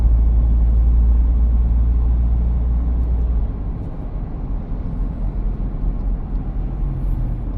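A Ford Everest cabin on cruise control fills with a deep, steady engine and road rumble that drops in level partway through and then continues at a lower drone.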